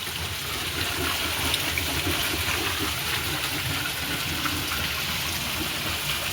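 Steady rushing water pours into a tank during a sudden heavy rain shower, a continuous dense gush that holds at an even level throughout with no voices.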